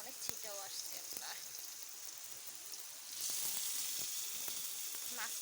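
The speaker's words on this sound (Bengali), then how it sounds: "তো আমি পেঁয়াজটা দিয়ে দিচ্ছি।" Onions sizzle and spit in very hot oil, a steady crackling hiss that swells louder midway with scattered sharp pops, while someone speaks in short bursts over it.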